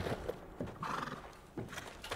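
Several horses gallop with hoofbeats and sharp whinnies and neighs rising above the running, close and fairly loud throughout.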